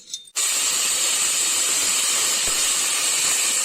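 Pigeon pea seeds dropped into a hot asafoetida tempering for a masala curry, bursting into a loud, steady sizzle and hiss that starts abruptly and fills the whole clip close by.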